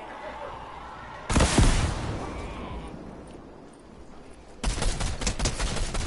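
Video game gunfire rings out in a loud crack and short burst early on, then a dense volley of rapid shots fills the final seconds.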